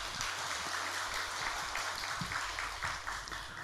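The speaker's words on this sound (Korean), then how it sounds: "우리 팩토리 찬양으로 하나님께 영광의 박수를 올립니다" A church congregation claps in praise to God during a worship service. The clapping is faint and distant, with a loose, roughly rhythmic pattern of hand claps over a low room hum.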